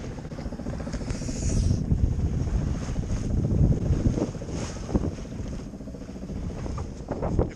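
A sailboat under motor and sail pushes through open water, a low engine rumble blended with gusty wind buffeting the microphone and the wash of waves against the hull, rising and falling in strength.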